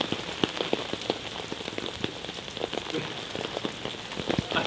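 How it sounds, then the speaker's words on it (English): Rain patters onto surfaces at Lake Como in Italy, a steady soft hiss broken by scattered close, sharp drips and taps, with no one speaking. "This would be such a nice view if it wasn't raining."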